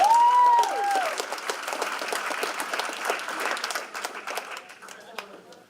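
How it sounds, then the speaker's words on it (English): An audience at a Boys & Girls Club annual gala fundraiser claps for a donor, a dense wash of applause with some cheering that starts loud and slowly thins out, while voices talk and call out over it. "you guys can clap for Denise"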